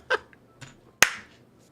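A single sharp hand clap rings out close and loud after a couple of softer, brief noises, then fades quickly.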